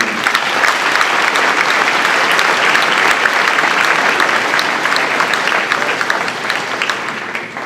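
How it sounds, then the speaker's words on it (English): Sustained applause from a university panel audience honoring Coach Sean McKinney, dense and steady clapping filling the room at full volume for several seconds, fading slightly at the end. "we owe you a big round of applause for him stepping up"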